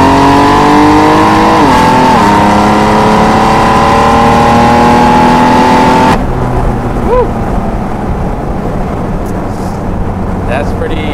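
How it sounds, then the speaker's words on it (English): A 2016 BMW M4 F82 accelerates at wide open throttle from about 60 mph, its engine roaring loud and rising in pitch through gear shifts before cutting off into quieter road and cabin noise. "we're going to go ahead and go wide open throttle now"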